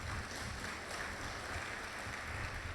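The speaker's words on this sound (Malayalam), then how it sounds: "കൈയടിച്ച് കർത്താവിനെ സ്തുതിക്കും." A church congregation claps together in praise during a priest's sermon, a dense, even roll of many hands clapping that holds steady throughout without speech.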